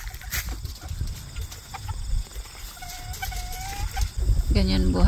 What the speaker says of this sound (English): Chicken, why are you roosting right there?